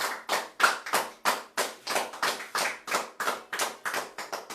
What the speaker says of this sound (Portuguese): A palavra está encerrada e as palmas é para o Senhor Jesus.